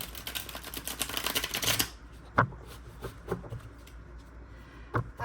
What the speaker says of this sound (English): it's easier to handle shuffling this way because this is a thick deck